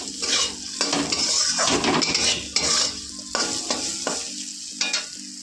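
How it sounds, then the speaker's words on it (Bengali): Eggplant frying with neem leaves in a pan, oil sizzling under repeated scraping and stirring strokes of a utensil against the metal, uneven clanks and scrapes close by without talk. "এবার আমি নিম পাতাগুলোকে দিয়ে আর বেগুনগুলোকে দিয়ে একসাথে এভাবে নেড়ে নিয়ে ভাজা করছি"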